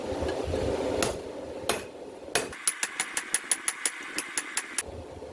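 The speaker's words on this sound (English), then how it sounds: "Flatten it, rotate it again, because this side that's flat against the anvil is going to be actually flat." A hammer strikes hot steel on an anvil while drawing out a herb chopper blade: a few heavy blows, then a quick, even series of about a dozen ringing taps, close and clear.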